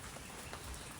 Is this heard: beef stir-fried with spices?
no